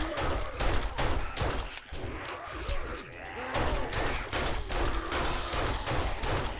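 Gunfire from 7 Days to Die during a night horde fight: a string of fairly quick, sharp shots cracks repeatedly over a dense, noisy background, the reports evenly spaced and moderately loud throughout.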